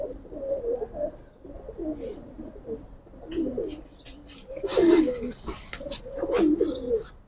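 Pigeons coo in a loft in Islambagh, Old Dhaka, with repeated soft throaty cooing phrases at close range, some overlapping, and brief faint chirps between them.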